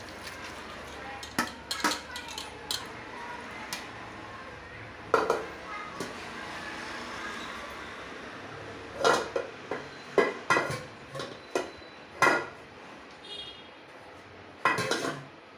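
Metal cooking pots and utensils knock and clink while potato wafers are moved between vessels, giving sharp, scattered clanks in irregular bursts over a quiet kitchen background.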